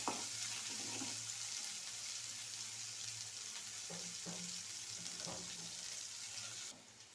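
Ginger garlic paste frying in hot oil for a curry, a steady soft sizzle throughout with faint clinks of stirring, fairly quiet and without talk.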